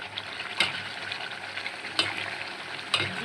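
Beef sizzles steadily in hot oil as it is fried down for kosha, with three sharp stirring clacks or spatters at regular intervals over the constant hiss.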